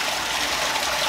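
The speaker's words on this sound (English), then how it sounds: "Gotta turn on the water" Steady rushing tap water pours without a break for a dog's bath, a close, even gush of running water with no voices.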